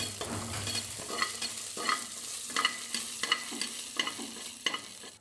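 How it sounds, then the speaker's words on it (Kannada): Mustard seeds, cumin, garlic and curry leaves fry in hot oil for a vegetable sambar, a close, continuous sizzle broken by regular scraping stirs of a spoon in the pot, roughly one stroke every second. "ಎಣ್ಣೆ ಕಾದ್ಮೇಲೆ ಸಾಸಿವೆ, ಜೀರಿಗೆ, ಬೆಳ್ಳುಳ್ಳಿ ಹಾಕಿ ಕರಿಬೇವು ಹಾಕಿ"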